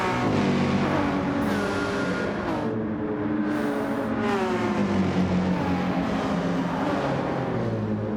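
A Porsche race car engine roars steadily in a racing video game, loud and continuous, with the pitch rising and falling through gear changes and no voices over it.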